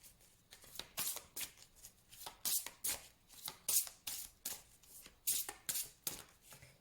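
Tarot cards shuffled and cut by hand, a steady series of crisp riffling slaps and flutters at close range, repeating roughly every half second.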